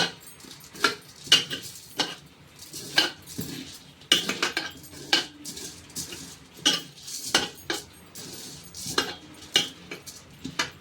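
Khichuri being mixed and mashed by hand with whole garlic cloves, heard as a steady run of wet, squelching presses and soft clinks against a metal pot or plate, close and repeated in an irregular rhythm with no talk.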